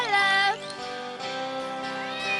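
Olaf, a cartoon cat, gives a drawn-out meow followed by softer, wavering mews, close and fairly quiet, without any talking.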